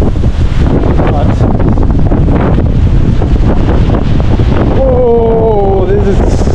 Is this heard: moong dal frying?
no